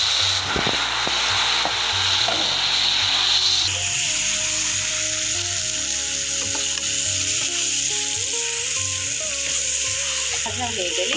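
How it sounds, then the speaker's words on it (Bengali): Taro leaves are tipped into a hot pan of browned onions in a clay-stove kitchen, bringing a loud, close, sustained sizzle. A clatter and stirring scrapes are layered over it, and faint voices sit in the background. "এখন আমরা কচু শাকটা ঢেলে দেব।"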